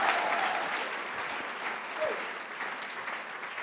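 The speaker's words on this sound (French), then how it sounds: "Ah, dale fuerte el aplauso." A church congregation applauds during a healing service, a broad sustained clatter of many hands that fades slightly toward the end, with a faint voice briefly audible beneath it.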